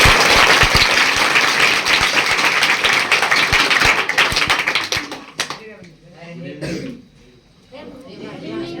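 Strong, dense applause from an audience honouring scientists at a school Children's Day celebration, steady for about five seconds before fading into a speaking voice with scattered claps.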